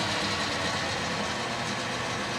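The motor of a Boxford BUD lathe, a 50 hertz motor driven by a variable frequency inverter, runs with a steady, continuous whirring hum at constant loudness and no talk.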